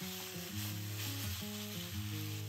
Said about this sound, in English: Let it sizzle for about 5 minutes until it's browned and cooked through.